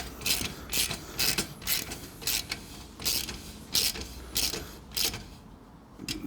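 Ratchet wrench tightening a bolt on a Triumph Bonneville T100/T120 motorcycle exhaust fitting, a series of about a dozen close, crisp ratcheting bursts in an even rhythm, alone without talk.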